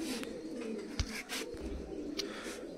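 A fancier's pigeons coo in a low, steady murmur, near but faint, broken by a couple of sharp knocks and brief chirps.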